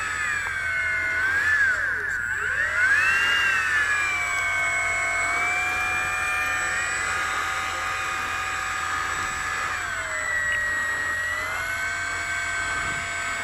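Parkzone BF-109 electric RC warbird motor whining while taxiing on grass, a loud steady high-pitched tone that rises and falls smoothly as the throttle changes, with faint outdoor background.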